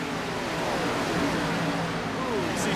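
Stock cars roar together in an iRacing NASCAR race at Michigan, a steady, dense engine drone with faint rising and falling pitch sweeps as the pack runs nose to tail.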